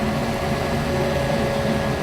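An immersion blender whirs continuously and loudly while emulsifying mayonnaise, a steady close motor drone churning through oil with no pauses or talk.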